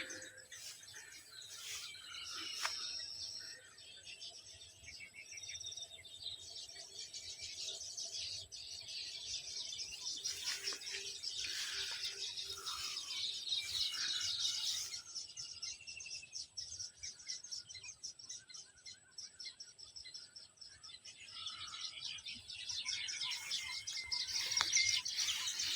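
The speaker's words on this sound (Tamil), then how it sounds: "குருவி ஒரு 1000 கணக்கான குருவிகள் நம்ம நெல்லை தான் சாப்பிடுது, நல்லா முழுசும்." A huge flock of sparrows feeds in a rice paddy ringed by coconut trees, a dense, continuous chatter of high chirps and tweets from many birds at middle distance, with no talk.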